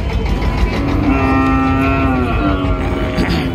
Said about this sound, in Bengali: এই সাইডে আপনারা দেখছেন বকনা গরুগুলো